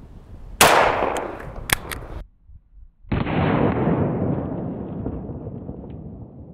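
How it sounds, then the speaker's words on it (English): A sharp gunshot from an HK USP Expert pistol firing .45 hollow point rounds, one loud crack followed by a second report and a long decaying echo, heard outdoors without talk. "Fired out of a HK USP Expert."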